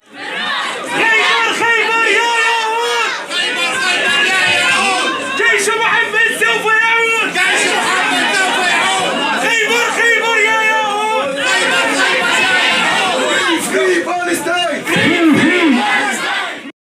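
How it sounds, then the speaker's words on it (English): Crowd of protesters at a Cardiff University gathering chanting loudly in unison, rhythmic shouted phrases repeating continuously with bursts of yelling, close and dominant throughout. "the crowd were treated to a chant of"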